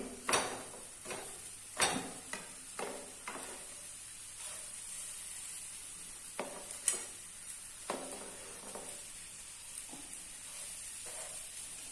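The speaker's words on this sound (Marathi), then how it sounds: "आणि आता ही सगळी वांगी परत या फोडणीमध्ये परतून घेते" Stuffed eggplants being stirred and sautéed in a spiced oil tempering in a kadhai, with scattered scraping strokes and a soft sizzle between them, at a moderate level.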